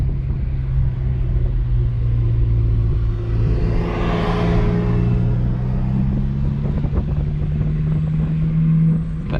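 An E90 car cruises along a scenic farmland road in the US DC–Maryland–Virginia area with traction control off, its engine a steady loud low drone under rushing wind, swelling slightly midway as another vehicle passes close by; no one talks.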